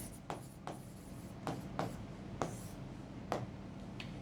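A pen scratches across paper by hand in short repeated strokes at an uneven rhythm, close and quiet against a soft background hum.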